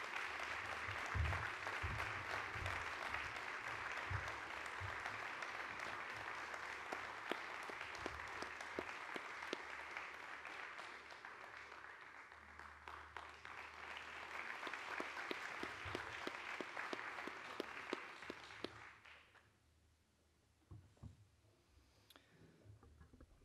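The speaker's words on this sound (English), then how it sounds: "Let's please give Eva and Tim a round of applause." Audience applause at an arts and humanities awards ceremony, a steady wash of many clapping hands lasting about nineteen seconds before tapering off abruptly into quiet room tone.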